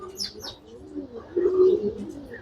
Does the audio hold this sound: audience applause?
no